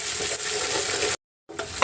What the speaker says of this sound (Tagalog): Ayan, ito muna nagigisa natin.